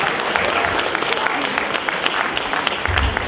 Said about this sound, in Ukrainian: Подякуємо їм усім оплесками.